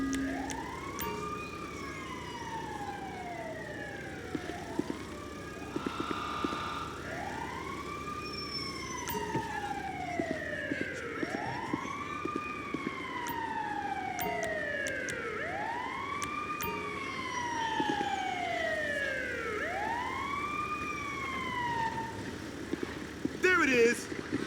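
An emergency vehicle siren in GTA5 wails in a steady repeating rise-and-fall cycle for the whole stretch, loud and continuous over faint background game noise.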